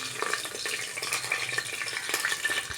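Whole spices and a bay leaf crackle in hot oil in a thick-bottomed pan, making a soft, busy frying hiss with light stirring clicks, fairly quiet, with no voice.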